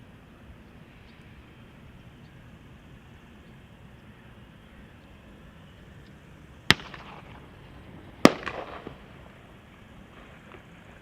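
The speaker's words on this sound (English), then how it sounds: "will they shoot off some fireworks again?" Two sharp fireworks bangs go off near Amsterdam Schiphol Airport, about a second and a half apart, over a low steady background hum of airport noise, each followed by a brief echoing tail.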